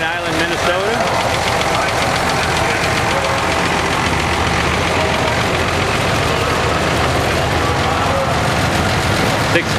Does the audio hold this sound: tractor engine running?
yes